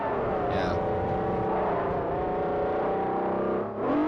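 A car understeers in the Forza 4 racing video game. A loud, steady engine drone with layered whirring tones holds throughout, briefly dipping near the end before surging back.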